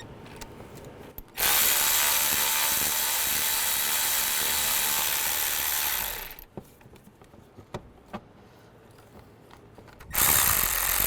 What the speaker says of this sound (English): I'm just going to remove the bolts for those. There's a 10mm socket.